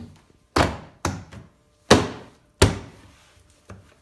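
A Nissan 370Z door panel is struck repeatedly to seat it onto its pins, giving five or six dull, solid thunks at uneven intervals, close and loud, each fading quickly into near silence.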